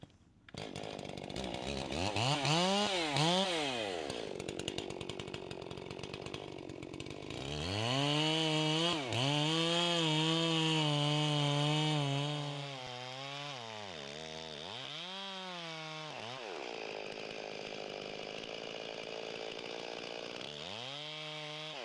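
A chainsaw felling a tree with a hydraulic wedge revs and whines through repeated rising and falling bursts, loud and close, working under load with brief idle dips between cuts.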